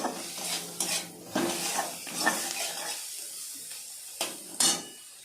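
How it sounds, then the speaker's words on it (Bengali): Onions fry with turmeric and salt in a pan while a spatula stirs in repeated, rhythmic strokes over a bright sizzle that fades slightly partway through; no talking. "একটু হলুদ, একটু লবণ দিয়ে দেব। পেঁয়াজটাকে ভেজে নেব।"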